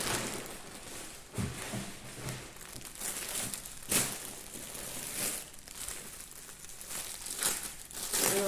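Plastic-wrapped storage boxes from a Temu order being unpacked, with steady close crinkling and crumpling of plastic wrap and occasional sharper tearing rustles.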